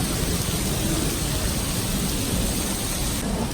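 Rain and thunder on a day at the Utah State Fair, a dense, steady roar of rainfall with a deep rumble underneath, loud and continuous throughout.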